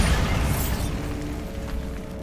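A Bombarda spell blast from Hogwarts Legacy, a loud close boom with a broad rumbling burst that decays into a lingering low hum over a couple of seconds, with no talking.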